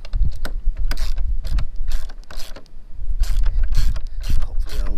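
Ratcheting 19 mm socket wrench tightening a bolt while building a plastic storage shed, a close, loud series of irregular clicks and creaks in quick bursts.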